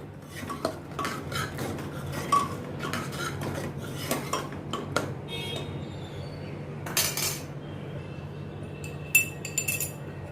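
A spoon stirs sambar masala into tomato and ginger-garlic paste in a pan, giving irregular clinks and scrapes of metal on metal over a quiet kitchen hum, with no talking.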